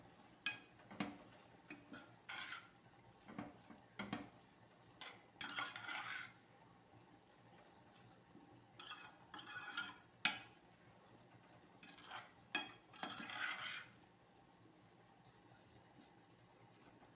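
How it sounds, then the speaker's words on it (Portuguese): Intermittent scraping and clinking of a spoon stirring ingredients seasoned with black pepper and salt as they sauté in a pan, in short bursts separated by quieter gaps, fairly close. "Aí você vai mexendo de vez em quando e é rápido também, tá? Pra ela refogar."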